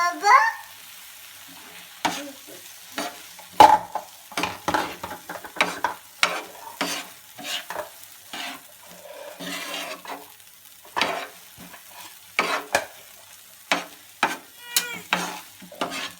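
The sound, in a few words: stirring egg curry in a pan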